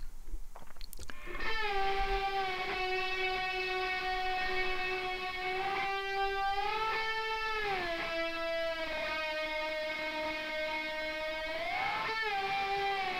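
Gritty, grimy slide guitar plays long sustained notes that glide smoothly up and down in pitch, with a rich, buzzing tone. It stands clear and steady in the mix, and no voices are heard.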